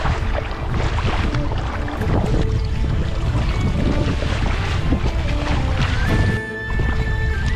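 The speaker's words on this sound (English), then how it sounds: "I don't know if you can hear me because of all the wind" Strong, continuous wind buffeting the microphone while kayaking on Myall Lakes and River, a loud roaring rumble that fills the clip almost without break and dips briefly near the end.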